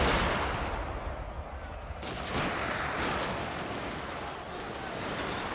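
Musket volleys and artillery fire in a Shogun 2: Fall of the Samurai battle form a dense, continuous crackle of gunfire with heavier booming bursts. The sound is steady and moderately loud throughout.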